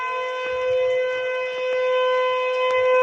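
A civil defense siren sounding a tornado warning, a loud sustained wailing tone with steady harmonics, heard outdoors over faint background rustle and no talking.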